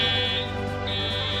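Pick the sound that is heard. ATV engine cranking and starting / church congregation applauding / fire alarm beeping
fire alarm beeping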